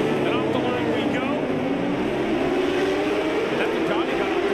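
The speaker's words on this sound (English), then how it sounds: "In the rain, and revs are up. And off the line we go." Supersport race motorcycles, including a Ducati, rev hard and launch off the start line in the rain at Road Atlanta, a loud continuous multi-engine roar with rising pitch under a commentator's voice.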